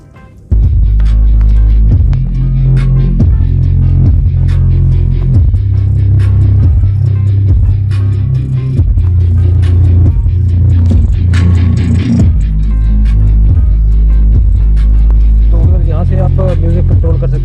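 Music with a heavy, throbbing bass plays loudly and continuously through the four-speaker audio system of a 2022 Suzuki Swift GLX CVT, filling the cabin from start to finish.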